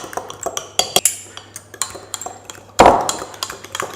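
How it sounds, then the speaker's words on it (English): A whisk or spoon clatters against a bowl while egg is beaten into buttermilk for Irish soda bread, with rapid irregular clinks and scrapes up close and a louder clunk near the end. "So we'll just mix the egg up"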